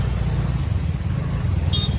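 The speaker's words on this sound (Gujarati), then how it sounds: "ટ્રાફિક ફૂલ છે ભાઈ પૂરેપૂરી ટ્રાફિક ફૂલ" Heavy road traffic on a busy route near Rishikesh rumbles in a dense, steady low roar of passing cars and larger vehicles, close and continuous, with a faint horn-like tone near the end.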